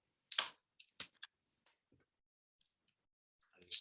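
Typing on a computer keyboard, a few quiet scattered key clicks in short irregular clusters, close and sparse with no talk.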